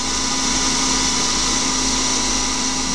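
A small CNC lathe running at 3000 rpm turning brass gives a loud, steady whine with motor hum, unbroken and close.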